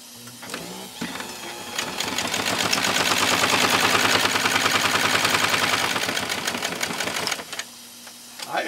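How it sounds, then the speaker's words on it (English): A 1949 Domestic 153-MG sewing machine stitches through two thick layers of cowhide leather, a loud rapid mechanical clatter that ramps up, runs steadily for several seconds, then slows and stops. "we'll see what this amazing domestic 153mg is able to do with this much leather underneath that presser foot"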